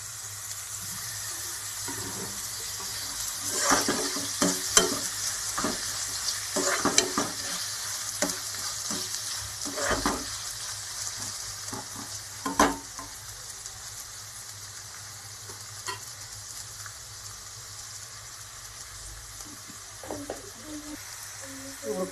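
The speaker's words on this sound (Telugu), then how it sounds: "ఇప్పుడు కోసి పెట్టుకుని టమాటాలు వేసుకుంటాం దీంట్లో." Chopped tomatoes fry in a pan with black jaggery, a steady soft sizzle punctuated by irregular scraping and clinking as a utensil stirs them.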